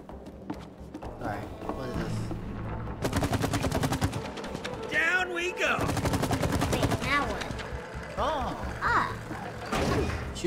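Rapid automatic gunfire in the video game It Takes Two, dense bursts of repeated shots running almost continuously with game music and effects, while players talk over it.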